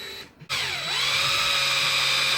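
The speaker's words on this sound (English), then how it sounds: "take a 1/8 drill bit, drill exactly down through the center" A 1/8 drill bit bores down through the center of a part held in a vise for a Dodge Ram winter grill cover, spinning up with a steady high whine after a brief pause, loud and close, with no talk.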